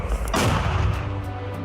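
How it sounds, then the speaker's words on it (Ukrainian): A single heavy 120 mm Finnish mortar shot booms nearby, a sharp blast followed by a deep rumbling decay. "Постріл!"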